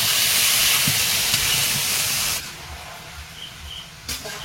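Pointed gourd, potato and prawns sizzle loudly in spice paste in a pan over a wood fire, a steady hiss that drops off suddenly partway through and leaves a quieter, softer crackle.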